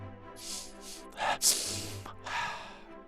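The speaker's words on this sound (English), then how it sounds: "No one wants to hear you sniffle your nose like a lunatic." Several sharp nasal sniffs and snorts up close, separated by brief pauses, with a faint hum underneath.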